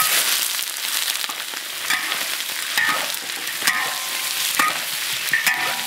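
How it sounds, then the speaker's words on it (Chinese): Pork trotters stir-fried in melted sugar for red-braised trotters, with a steady close sizzle and scraping of the spatula against the wok in irregular strokes, no talk. "这样稍微炒一下啊，让那一糖把那个肉给包裹住"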